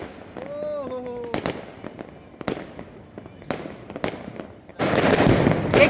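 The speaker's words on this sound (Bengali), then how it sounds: "বাজির কি খেল।" New Year fireworks bursting outdoors: scattered sharp bangs and crackles, a whistling rise early on, then a dense loud crackling barrage at the end.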